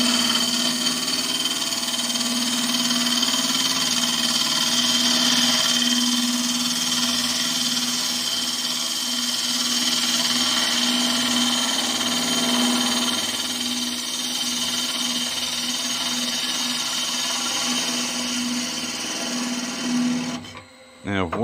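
End grain wooden bowl spinning on a wood lathe while being flattened, a steady tonal hum with a continuous scraping, rasping cut running throughout before stopping abruptly at the end.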